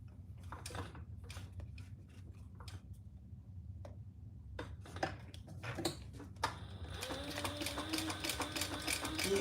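A sewing machine stitching a wallet, steady mechanical ticking and whirring that builds toward the end, fairly quiet and close, with occasional clicks and no speech.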